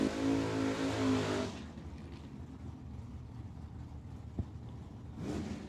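Chevrolet Chevelle drag car at Tucson Dragway, a loud harmonic engine roar for the first second and a half, then faint distant track noise before another engine swells at the end.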